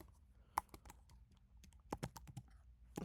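Computer keyboard typing during SPSS statistics work, a quick irregular burst of close, sharp keystrokes with short pauses between, no talk over it.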